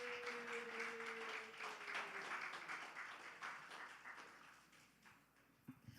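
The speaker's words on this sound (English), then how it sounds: "Clap it up for her, y'all." Small gathering claps in a brief, faint round of applause, scattered hand claps tapering off over several seconds.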